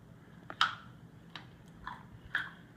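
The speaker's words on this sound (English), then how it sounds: "chewing on some celery" Crunchy bites of raw celery, three or four crisp snaps spaced about a second apart, quiet and close, with no talking.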